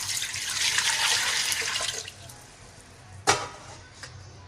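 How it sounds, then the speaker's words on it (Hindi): Water pours into a pot for Muradabadi biryani, a bright rushing stream for about two seconds that then tapers off, followed by a sharp knock and a few faint drips. "सबसे पहले हम पानी डाल लेंगे।"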